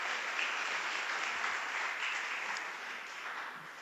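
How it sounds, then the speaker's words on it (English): An audience at an evening diabetes and stress health talk claps in steady, dense applause, fairly faint and tapering off slightly toward the end. "If we can give them a round of applause."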